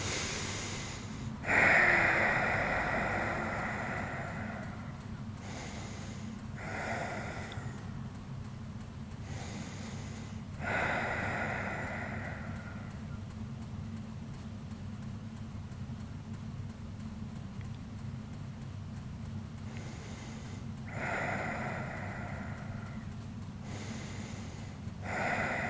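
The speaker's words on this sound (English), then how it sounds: "Three more breaths." Slow, deep yoga breaths come in long, audible cycles, each inhale and exhale a rushing, breathy swell several seconds long, repeated about half a dozen times close to the microphone with no talking.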